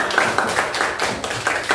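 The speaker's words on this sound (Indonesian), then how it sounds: "Tepuk tangan untuk kita semua." A group claps hands together in a quick, uneven burst of applause, fairly close and loud, lasting a couple of seconds with no speech.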